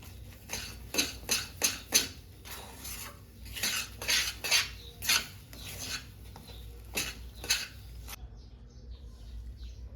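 Semolina sheera is scooped from a pan onto a plate, a run of repeated rasping spoon scrapes and clinks against metal, close and moderately loud, ending abruptly.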